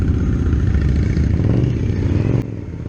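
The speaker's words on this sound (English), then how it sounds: "That Scout has got a lovely exhaust note." An Indian Scout motorcycle runs with a deep, steady exhaust rumble and engine clatter, loud and close, easing slightly near the end.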